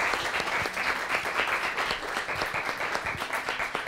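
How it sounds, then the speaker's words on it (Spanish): Audience applause for a guest at a university forum on Colombia's 2018 presidential election, a dense, even round of clapping from a seated crowd, steady and moderately loud throughout. "Por favor, un aplauso para Francisco."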